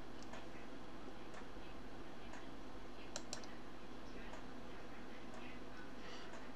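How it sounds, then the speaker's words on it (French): Print screen and other keys pressed on a computer keyboard, giving a series of sharp, close clicks at an irregular rhythm over steady background noise. "vous utilisez la touche imprécran du clavier"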